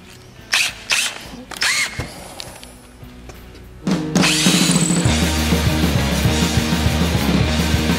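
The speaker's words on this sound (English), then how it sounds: "So now we're going to drill it." A power drill bores out a broken bolt, with a few sharp knocks and tool handling at first, then a steady, close, continuous drilling whine and grind through the second half.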